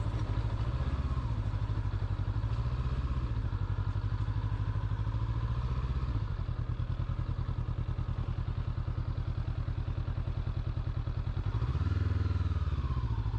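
Light motorcycle riding along a country road in the Oxfordshire countryside, its mid-pitched engine droning steadily with small shifts in revs and a brief throttle change near the end, close and continuous with no talk.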